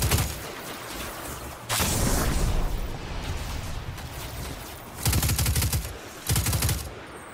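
Bursts of automatic gunfire in the Destiny 2 video game during a public event: loud, dense rattling volleys, with a long burst early on and two shorter bursts near the end, quieter combat noise between them and no talk.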